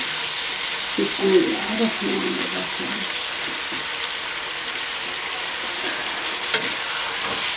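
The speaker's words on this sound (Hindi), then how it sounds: "अब मैं इसमें लेमन जूस शामिल कर रही हूँ।" Turnip and carrot pickle sizzles steadily in a pan as lemon juice goes in, a loud continuous hiss with a brief bubbling burst near the start and a few stirring knocks, with a voice talking over it.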